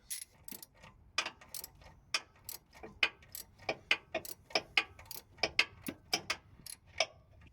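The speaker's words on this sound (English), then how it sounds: "taking off the top front bolt" A ratchet wrench loosens the top front bolt on a Ford Fiesta ST180 during a Turbosmart blow-off valve install, giving a steady run of sharp, close metallic clicks in quick rhythm with no talking.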